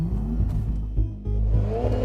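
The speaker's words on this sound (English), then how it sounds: "Launching the Panamera, like all Porsches, could not be easier." A 2014 Porsche Panamera 4S with a twin-turbo V6 and PDK transmission launches hard, its engine note loud, deep and rising with a strong, throbbing rumble.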